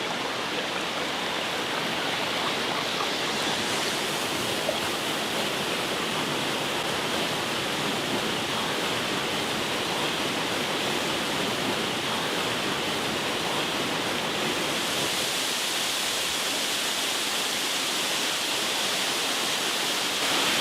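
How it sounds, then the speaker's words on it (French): Water rushes steadily over petrified cascades, a dense, constant roar that never lets up, with no voices. "formant ce qu'on appelle les cascades pétrifiées"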